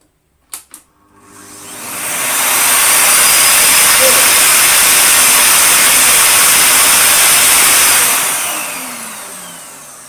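A Hoover Sonix bagless cylinder vacuum, its filter just cleaned, starts after a couple of short clicks and builds to a loud, steady rushing roar of airflow. It holds for several seconds, then begins to fade.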